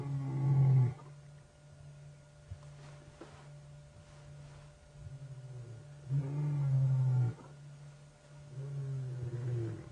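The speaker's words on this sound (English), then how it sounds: "The other one's starting to roar a little louder." A wild animal roars on an evening safari drive in three deep, rumbling bursts separated by quieter pauses. The roars are moderately loud and heard alone, with no talking.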